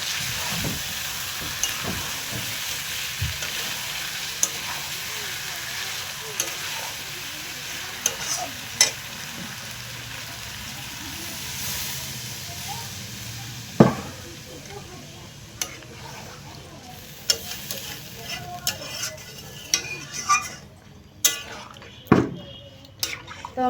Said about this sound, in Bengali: এখন আমি পরিমাণ মতো জলটা দিয়ে দেবো